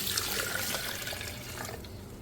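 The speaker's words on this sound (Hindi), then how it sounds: "फिर मैं इसके अंदर डालूँगी तकरीबन 1 गिलास पानी" About a glass of water is poured into sugar and melon and sugarcane seeds, making a steady, close splashing and trickling that runs the whole time.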